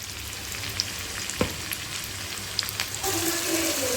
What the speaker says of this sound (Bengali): পেস্টটা দিয়ে দিয়েছি এবার এটাকে দিয়ে ভালো করে কষাবো